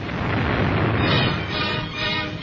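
A loud, rumbling blast roars during a wartime air raid on Shanghai, a dense, continuous booming roar on an old, noisy recording with no clear gaps.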